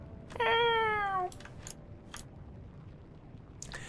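A single drawn-out cat meow in World of Warcraft, clear and fairly loud, followed by a few soft clicks and taps over quiet background.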